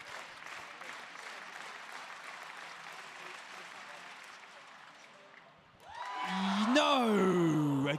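An indoor arena crowd at an athletics championships in Sheffield applauds and roars through a pole vault attempt, a steady wash of clapping that swells louder at the end while a commentator speaks over it.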